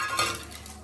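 A spoon scrapes and clinks briefly against a pan while fried dried fish is stirred into chilli masala, a soft, close kitchen sound with no talking.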